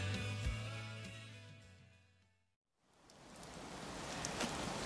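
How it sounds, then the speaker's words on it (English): Rain in an outdoor rural setting rises from silence into a steady, close hiss. Before it, a tonal, droning background fades away to near silence. No one speaks. "Oh, I was right about the rain."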